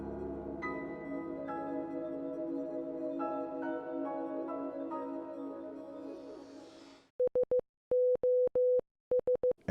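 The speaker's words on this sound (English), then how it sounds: "It is a Morse code SOS." Game music from a Divine Beast in Breath of the Wild with a hidden Morse code SOS: a layered synth melody fades out, then clean electronic beeps follow alone in short and long pulses.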